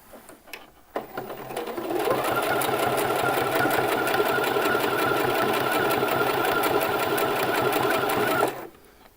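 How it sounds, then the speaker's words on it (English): A sewing machine runs a continuous line of stitching along the folded edge of a T-shirt, a steady fast mechanical whirr and rhythmic needle clatter lasting several seconds, close and loud, starting and stopping cleanly. "we're going to sew a line of stitching along this edge here, about 3 millimeters from this folded edge"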